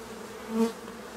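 Honeybees buzzing during a beehive inspection, a soft close hum swelling briefly as a bee passes near, then settling back to a faint drone.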